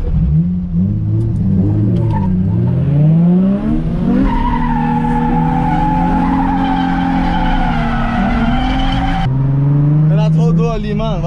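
Cars drift together with engines revving hard and rising and falling in pitch, tires squealing through long slides, loud and close, with people talking under the noise.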